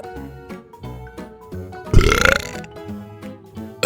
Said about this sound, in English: This was an exercise in making 2 burps